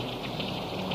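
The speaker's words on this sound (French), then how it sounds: "la pluie se met à crépiter plus fort sur les carreaux" Rain pattering against window panes, a dense, even patter that holds steady at moderate loudness with no voices over it.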